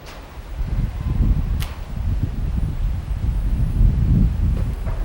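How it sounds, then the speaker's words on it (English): Wind gusts outdoors near stables, buffeting the microphone with a continuous low rumble and rustle that swells and eases over several seconds, with no voices. "You hear a lot of wind."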